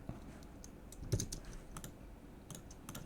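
Quick bursts of keystrokes on a computer keyboard while coding HTML, CSS and JavaScript, a few separated clusters of clicky taps, close and moderately loud, no voice.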